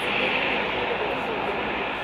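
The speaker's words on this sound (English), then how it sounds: "The planes take to the runway and begin to taxi out." Kenya Air Force military planes taxi out toward the runway at Laikipia Air Base, a loud, steady engine roar that holds close and unbroken for the whole stretch.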